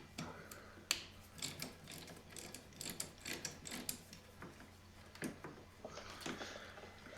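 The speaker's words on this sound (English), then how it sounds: "I get those loose with a 10mm socket." A hand ratchet fitted with a 10mm socket loosening bolts on a Suzuki King Quad 300 ATV, giving fast clicking pawl bursts in uneven runs, close and fairly quiet with no talk.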